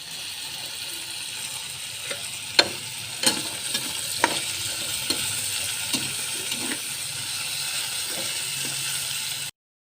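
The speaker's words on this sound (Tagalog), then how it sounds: "ipaparinig ko sa inyo itong aking pagigisa" Food sautéing in a pan gives a steady, close sizzle throughout, broken by several sharp clinks and scrapes of a utensil stirring against the metal.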